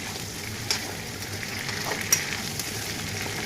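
Food frying in a pan until golden brown, a continuous soft sizzle with occasional stirring clicks and scrapes, close and fairly quiet with no talking.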